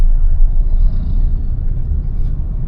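A Mahindra XUV700 AX5 with a manual gearbox drives along, heard from inside the cabin as a loud, steady low rumble of engine and road noise, with no talk.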